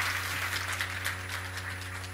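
A lecture audience claps steadily after talks at an entrepreneurship concert, a continuous moderate patter of many hands over a low steady hum, with no pauses.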